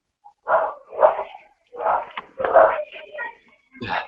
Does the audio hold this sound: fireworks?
no